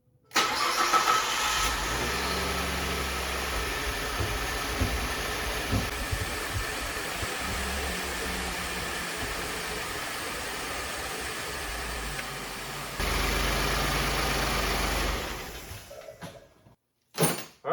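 A freshly rebuilt 2014 Ford F-150 EcoBoost engine, run without coolant, cranks and fires, then holds a steady loud idle with a brief rev near the end before shutting off, close to the microphone with no talking.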